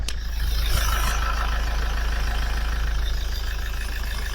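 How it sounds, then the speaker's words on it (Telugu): A 2022 Mahindra Scorpio S5 with about 1,14,000 km on it idles steadily, a low, even engine rumble heard close with a brief click at the start and no talking. "ఇంజన్ సౌండ్ వినండి."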